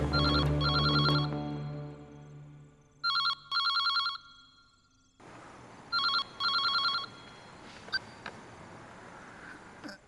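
An old-style telephone bell rings in paired electronic trills, several bursts separated by pauses, loud and close as a call goes through, with a steady hiss of room noise underneath and no speech.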